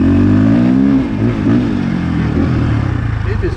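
A 2021 KTM 450 Factory Edition motorcycle engine revs up loud and close as the rider rolls onto the throttle, its pitch climbing and wavering before settling into a steady buzzing drone.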